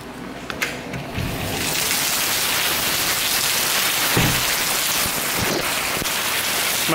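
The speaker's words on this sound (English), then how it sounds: "Now it's raining." Steady rain pouring down during Hurricane Irma, a dense continuous hiss that stays loud and even throughout, with a few brief heavier splashes and gusts mixed in.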